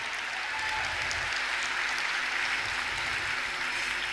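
Sustained crowd applause at a world technology congress closing ceremony, even and moderately loud, with continuous clapping from a large audience and no one speaking over it.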